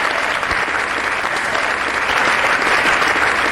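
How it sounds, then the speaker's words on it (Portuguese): Sustained, dense applause from a church congregation fills the whole stretch, steady and loud without pause. "Isso, aplauda mais forte."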